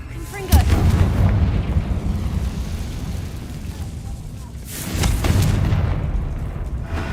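Confringo fire spell blasts in the Hogwarts Legacy video game: two heavy booming explosions, one early and one later, each followed by a long rumbling roar of debris and fire.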